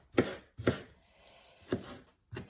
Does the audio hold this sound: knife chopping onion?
yes